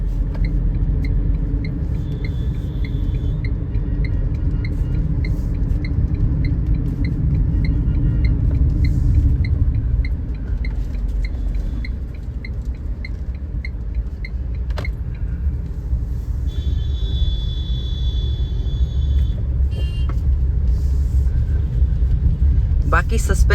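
Inside a Tata Punch with a 3-cylinder engine in heavy traffic, a steady low cabin drone and road rumble continue throughout, with someone talking over it.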